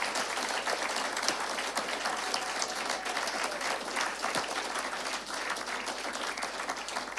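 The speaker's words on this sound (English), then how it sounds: "clap for them." A congregation at a homecare fellowship's 40th anniversary gathering gives a standing ovation, with sustained, even clapping from many people at moderate distance, a broad continuous wash without pauses.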